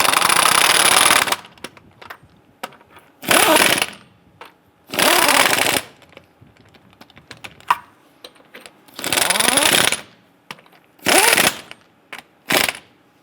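A power impact tool snugs down lug nuts on a 2002-2008 Dodge Ram 1500 rear axle, loud rattling bursts of one to two seconds repeated several times with short pauses and clicks between.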